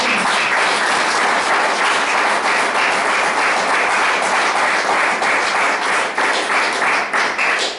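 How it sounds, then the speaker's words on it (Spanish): Church congregation giving a loud, sustained round of applause during a sermon, dense clapping filling the space steadily and tapering slightly near the end. "Denle un aplauso, Señor."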